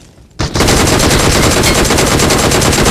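Loud, sustained automatic gunfire in a first-person shooter video game, a dense rapid burst that erupts suddenly after a quiet moment and continues without pause.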